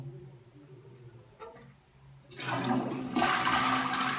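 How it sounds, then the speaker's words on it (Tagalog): A toilet flushes with a loud rush of water after a few quiet clicks and handling sounds, following a flush valve replacement, the surge swelling and continuing to the end. "So, tatry po natin na i-flush siya."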